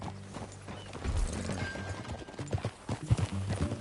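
Hooves clip-clop at a walking pace in Red Dead Redemption 2, fairly quiet, with faint creaks of tack and a soft snort among the steps.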